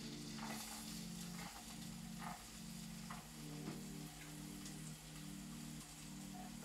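Onions fry in butter in a pan for Philly cheesesteaks, a constant crackling sizzle with a low hum underneath and occasional soft clinks, with no talking.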